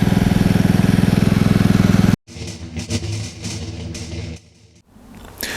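The engine of a KEMAGE KM5000io inverter generator runs at high revs under load, a loud, close, even drone for about two seconds that then cuts off abruptly, followed by music.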